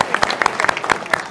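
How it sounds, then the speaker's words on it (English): Short burst of audience clapping from a small crowd at a marriage retreat, scattered sharp claps over about a second, close and moderately loud. "let's give her a clap."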